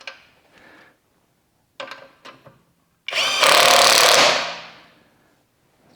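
An Avhrit impact wrench drives lug nuts onto a wheel. A few short clattering bursts come first, then a loud, sustained hammering run of about a second and a half that trails off.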